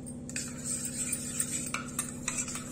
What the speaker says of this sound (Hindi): इसको मैं इसमें थोड़ा सा गर्म पानी यूज कर रही हूँ ताकि इसको हम थोड़ा सा मिक्स कर ले